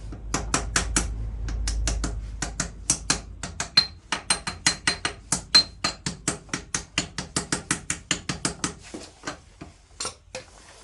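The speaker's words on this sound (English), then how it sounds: "I am going to use a hammer on this face." A hammer taps a metal bush into a tractor front axle, sharp ringing metal-on-metal strikes in a steady, fairly quick rhythm, close and loud, with a low rumble at the start.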